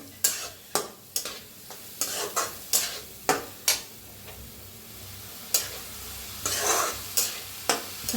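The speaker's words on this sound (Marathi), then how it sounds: "मटकीची डाळ बी जरा भाजून घेऊया" Moth bean dal roasts in oil in a pan, with sharp metallic spoon scrapes and taps repeating roughly every half second over a low, steady sizzle, close and fairly loud.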